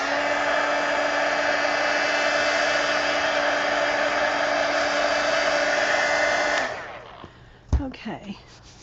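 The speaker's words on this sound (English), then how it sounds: "Heat gun." A heat gun drying wet watercolor paint on a coloring page blows a steady, loud whirring hiss for several seconds, then shuts off and winds down, followed by a few brief knocks and handling sounds.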